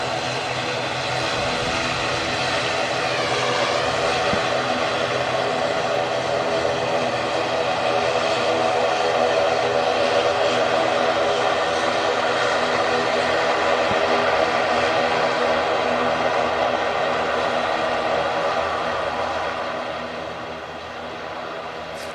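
An airplane taking off on an intersection departure gives a sustained, loud engine roar with a droning harmonic whine that holds steady for most of the time, then fades near the end, with no talk.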